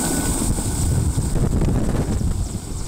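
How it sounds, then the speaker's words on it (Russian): A helicopter flying during a rescuer and aviator training exercise, a loud, steady rotor and engine roar buffeted by heavy wind noise, continuous and close for the whole stretch. "Вертолет берет курс на Голодную губу."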